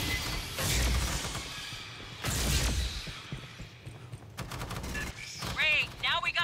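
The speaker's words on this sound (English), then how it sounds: "Must have heard the gunfire." Bursts of gunfire in the video game Aliens: Fireteam Elite, several heavy volleys and then a rapid string of shots, with voices talking over the action.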